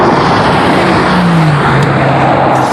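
A Honda NSX and a Mercedes-AMG GT R drag race over a standing quarter mile, heard as steady loud engine roar with a rising and falling tone and a smooth pitch sweep, continuous for the few seconds with no talk.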